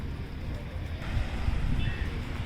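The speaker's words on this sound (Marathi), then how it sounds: "कुठली तरी बोट गेले आत्ताच मुंबई साईडला" A boat passes by near Mandwa jetty at Alibag, heading toward Mumbai, giving a low, steady rumble of engine and water mixed with wind at moderate distance, with no clear talk over it.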